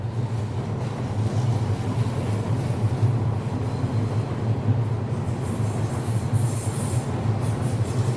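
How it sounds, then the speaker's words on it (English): Steady low rumble of a train in motion, with a continuous rolling drone and faint wheel noise from inside the carriage. "there's nothing better than the ASMR of a train ride"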